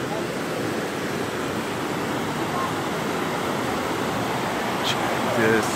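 Steady broadband rush of a waterfall, loud and continuous from up close, with a faint voice briefly audible near the end.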